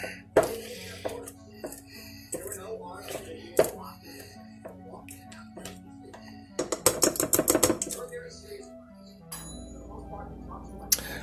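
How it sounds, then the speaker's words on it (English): Metal pastry cutter or fork cutting butter into flour in a bowl for a strawberry cobbler, irregular sharp clinks and scrapes close up, with a quick rapid burst of tapping partway through. "we're going to cut it in with either a pastry cutter or a fork or your hands"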